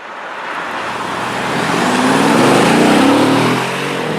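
Mercedes E63 AMG Wagon accelerating hard up a highway on-ramp, its engine note rising and swelling to a loud roar over a few seconds before easing slightly at the end, heard from inside the car.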